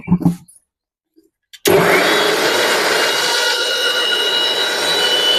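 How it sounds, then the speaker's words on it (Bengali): A kitchen mixer grinder starts abruptly after a brief pause and runs at full power, blending watermelon for juice, loud and close, with a steady harsh motor roar and no talk over it. "এটা মিক্সিতে আমি বসিয়ে দিয়েছি চলো এবার আমি এটা বেটে নেব"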